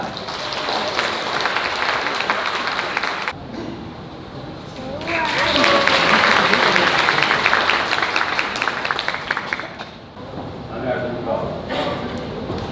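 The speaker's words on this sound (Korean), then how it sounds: "힘찬 박수 부탁드립니다." Guests in a wedding hall at a musical-style ceremony clap in dense waves that dip briefly, swell louder, then thin out, with a voice talking through parts of it.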